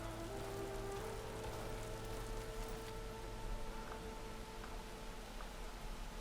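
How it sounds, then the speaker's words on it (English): Rain falls steadily in the video game Horizon Forbidden West, a soft, continuous hiss of drops with faint tonal hum behind it and no speech. "Or is it just raining?"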